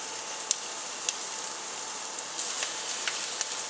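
Shrimp dropped into a hot pan with cooking onions, a soft steady sizzle with a few sharp crackles and pops at intervals.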